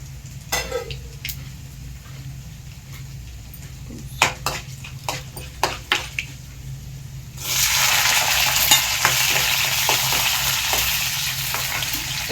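Potatoes fry in a pan: first a series of sharp utensil taps and clinks over a low hum, then a loud, steady, close sizzle takes over for the rest of the clip.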